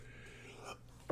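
A single sharp sneeze bursts out at close range after a quiet stretch of faint background murmur.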